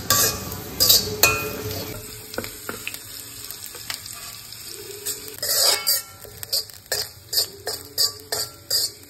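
Grated coconut with curry leaves roasts in a pan, giving a soft steady sizzle broken by repeated scraping and clinking of a spoon stirring against the metal, louder in bursts toward the end.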